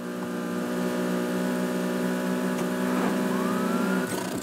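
A police car siren wails steadily and loudly throughout a Need for Speed Heat car chase, its sustained tone holding close with traffic noise underneath and a brief rise near the end.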